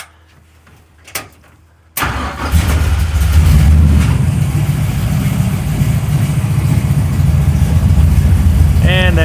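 A race car engine cranks and catches after a quiet start, then settles into a loud, steady idle that runs on to the end, with a brief rising whine near the close.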